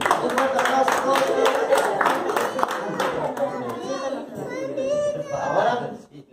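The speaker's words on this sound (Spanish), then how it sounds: "dale un fuerte aplauso. Un fuerte aplauso a todos." A church congregation clapping for the children during a children's fast service, steady rhythmic applause filling the room under chatter and voices, with clapping strongest at the start and tapering off.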